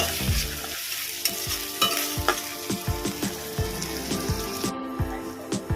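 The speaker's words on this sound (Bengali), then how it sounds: "আমি এর মধ্যে দেব আদা পেস্ট এক চামচ পরিমাণে এটাকেও ভেজে নেব যতক্ষণ না কাঁচা গন্ধ যাচ্ছে" Onion and ginger paste fry in a pan for a spiced katla fish curry, a steady close sizzle broken by repeated scraping stirs of a spoon against the pan, with no talking.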